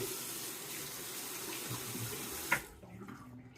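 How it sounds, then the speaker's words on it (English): Hot water running and gurgling down a sink drain, steady and close, then cutting off abruptly with a final gulp and quieter trickling. "I guess I will drain this hot water I have in the basin"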